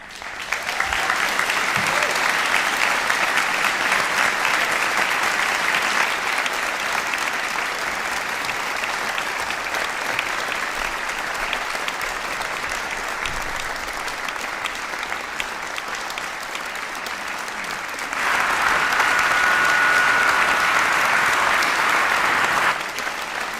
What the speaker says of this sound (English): Please be upstanding to applaud our graduates.